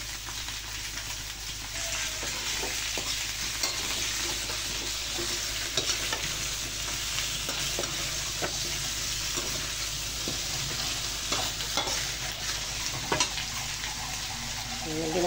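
Boiled chicken feet stirred and frying in a pan, a steady loud sizzle with scraping stir strokes throughout.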